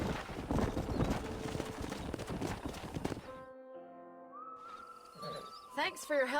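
Several horses clip-clop in the Red Dead Redemption video game with dense, quick hoofbeats for about three seconds before they stop. Tonal game sounds and a voice follow.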